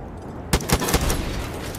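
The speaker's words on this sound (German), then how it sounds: "So, 2 Schüsse reichen schon." Gunfire in the video game Far Cry 5: a few sharp shots in quick succession cut over a steady background hum, then fade into rumbling game ambience.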